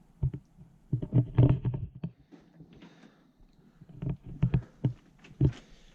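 Faint, irregular knocks and clatters echo in bursts as a rock bounces down a deep abandoned mine shaft, fading and then clattering again.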